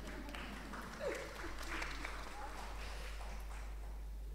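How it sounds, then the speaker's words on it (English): Applause from a conference audience at a generation-equality innovation event in Tanzania makes a soft, steady wash of clapping, faint and somewhat distant, running continuously for several seconds. "Can you give her a round of applause?"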